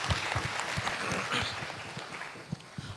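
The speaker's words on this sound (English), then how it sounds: "I think they deserve a round of applause from all of us" A seminar audience at a wedding and MICE conclave claps, a moderate patter with distinct individual claps standing out, tapering slightly toward the end.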